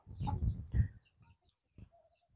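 Farm chickens, a few low clucks and soft calls close by in a quiet setting, trailing off into scattered faint peeps.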